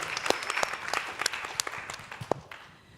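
An audience at a creators' symposium applauds between speaker introductions, a dense patter of many claps with a few louder hands standing out, gradually thinning as it fades toward the end.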